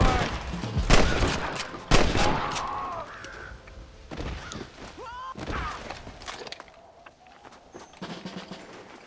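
Gunshots crack and echo in the Western video game Red Dead Redemption, with a few loud bursts and scattered shots over ambient game noise, and voices talking between the shots.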